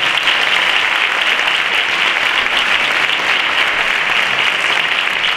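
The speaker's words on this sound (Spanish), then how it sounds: "un fuerte aplauso" A concert audience at a municipal band's Santa Cecilia performance breaks into loud, sustained applause, a thick continuous roar of clapping with no voices over it.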